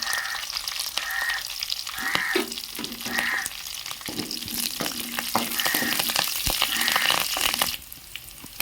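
Loud, steady sizzling of curry leaves and cumin frying in hot oil, crackling and spitting continuously for several seconds before dropping off near the end.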